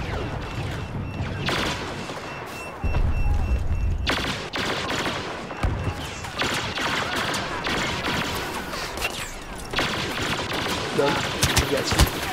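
Rapid gunfire from the Star Wars Battlefront video game on the Jakku map rattles in loud, dense bursts with explosive thumps, mixed with a player's excited talking.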